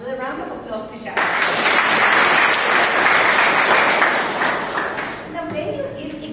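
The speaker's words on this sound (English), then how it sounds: "a round of applause to Jack" Audience applause at a public-speaking session, a loud burst of clapping that swells in suddenly, holds steady for several seconds and then fades as a speaker's voice returns.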